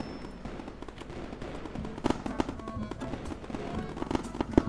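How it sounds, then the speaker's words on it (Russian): Fireworks in a Roblox video game crackle and pop in a busy, continuous stream of small bursts, with a few sharper bangs standing out against the steady noise. "Фейерверк взрывает туда базе."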